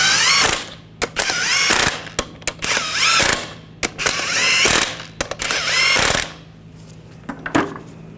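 Ratchet wrench snugging down lug nuts on a 2014-2018 GMC Sierra wheel, loud close bursts of rapid mechanical clicking in several runs with short pauses between them, no talk.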